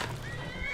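A horse in the video game Skyrim gives a short whinny, a brief rising neigh with faint hoof clops, moderately quiet and heard alone.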